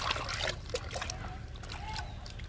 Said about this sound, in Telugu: మునగాకు లిక్విడ్ ఇస్తున్నాను మొక్కలన్నిటికీ